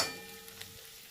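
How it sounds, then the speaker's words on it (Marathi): Chili thecha sizzles in hot oil, a soft steady frying hiss with a couple of faint ticks, brief and fairly quiet, with no voices. "आता हा ठेचासुद्धा या तेलामध्ये आपण मिनिटभर चांगला परतून घेऊयात"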